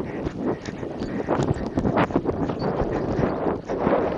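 A horse canters on a riding surface, hoofbeats thudding in an irregular rolling rhythm, fairly close, with wind buffeting the microphone and no talk.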